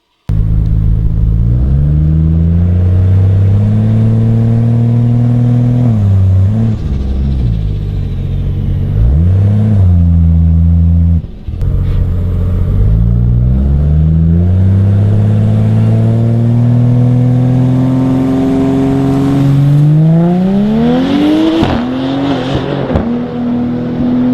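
Turbocharged Barra-engined race car of about 1000 crank horsepower on a drag strip, a loud close engine droning and revving as it strains to build boost on the line, then rising sharply as it launches near the end.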